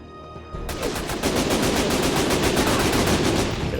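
Sustained automatic gunfire from the video game Syphon Filter: The Omega Strain, a loud, rapid, steady stream of shots lasting several seconds with no talk over it.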